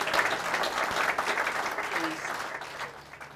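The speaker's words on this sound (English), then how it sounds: "Give the guides a big round of applause." Crowd applause for fishing guides at a hurricane relief fundraiser, a burst of many hands clapping that gradually tapers off, with a few voices underneath.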